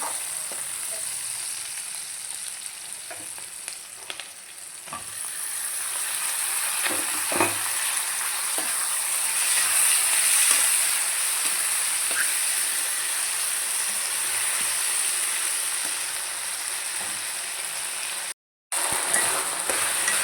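Tomatoes fry in a pan for chutney with a continuous sizzling hiss and occasional stirring clicks, close and moderately loud, with a brief cut near the end and no talking.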